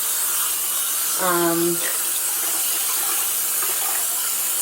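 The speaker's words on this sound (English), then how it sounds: "But I am expecting to need to do a fair amount of rinsing here." Wool yarn dyed with food coloring and treated with Oxyclean is rinsed under running tap water, a steady hiss of flowing water with a brief tonal sound partway through.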